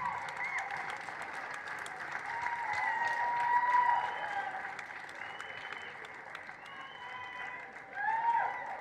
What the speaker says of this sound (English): Please, your thunderous applause for Ernesta Clark of the constituency of St.